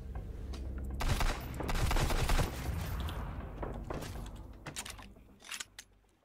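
Rapid bursts of gunfire in the survival game Sunkenland, several shots in quick succession, loud and close at first, then thinning into scattered, more distant reports.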